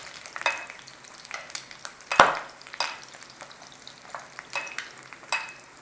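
Eggs fry in hot fat, spitting and splashing with irregular sharp crackles and pops over a low sizzle, one louder pop standing out, with no talk.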